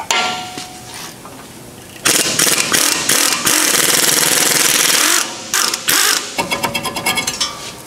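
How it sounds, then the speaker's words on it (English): Bolts are threaded into the front brake rotor of a 2012 Honda CR-V to pop it free: loud, close bursts of power-tool hammering and clanking, a long sustained run in the middle, then rapid short pulses at the end. "Thread 2 of these bolts in to pop the rotor free."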